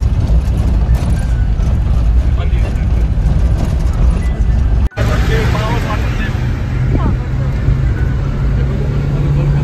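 Cars, buses and trucks rumble and idle nearby on the Zojila Pass mountain road, a steady loud engine drone with one abrupt break midway and a lower hum afterwards.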